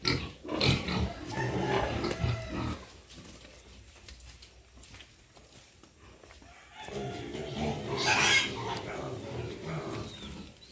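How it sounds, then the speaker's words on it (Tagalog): Pigs grunting on a muddy farm, loud close snorts and grunts in two bursts separated by a quieter stretch, with other farm animals and some background voices. "Yan, ang lalaki na ng baboy ni Rose."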